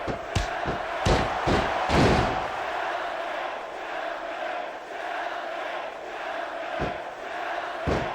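Wrestling arena crowd in WWE SVR 2006 reacting to Edge, a sustained roar of a large audience punctuated by heavy slams and thuds from the ring, loudest early then settling into steady crowd noise.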